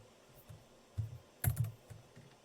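Typing on a computer keyboard, a few quick clustered keystrokes with short gaps, close and fairly soft with no talk.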